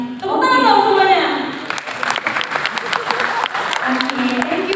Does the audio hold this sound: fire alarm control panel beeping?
no